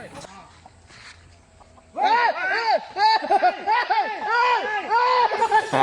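Chickens cluck loudly and repeatedly in a busy, overlapping burst close by, following a quieter stretch at the start.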